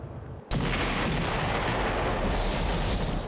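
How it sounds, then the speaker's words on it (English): A mortar shell blasts in Dracula 3: Path of the Blood, a sudden loud boom after half a second of quiet that swells into a long, dense rumbling roar filling the rest of the moment. "A mortar shell."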